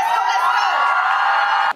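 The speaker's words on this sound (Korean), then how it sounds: "여러분 큰 박수 부탁드립니다" An audience cheers and screams loudly just before a solo cover dance performance, a dense, steady roar for nearly two seconds that cuts off abruptly.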